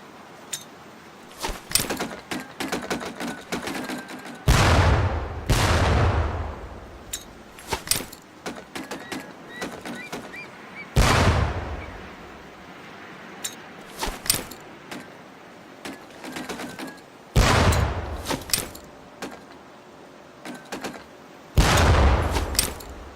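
Training grenades bursting against barrels on a range in the video game Medal of Honor Pacific Assault: about five loud, sharp blasts at irregular intervals, each with a short rumbling decay, between quieter clicks and clatter.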